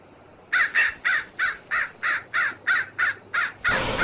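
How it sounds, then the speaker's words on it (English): A monster in the indie horror game Unlasting Horror lets out a rapid series of about ten harsh, crow-like caws in steady rhythm, loud and close over a quiet ambient background. "I came across the monster again, and I just realized how fast he actually is, and the sound he makes is"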